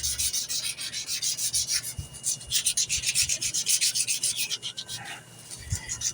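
Wooden knife handle hand-sanded with 400-grit sandpaper during handle profiling, a steady rhythmic rasp of back-and-forth strokes, close and fairly loud, with no talking.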